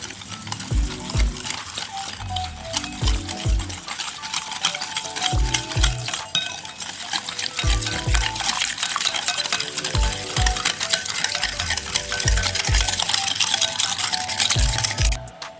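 Powdered sugar is stirred into a cake batter in a bowl, with a spoon scraping and knocking against the sides in a steady, repeated rhythm for the whole stretch, close and fairly loud.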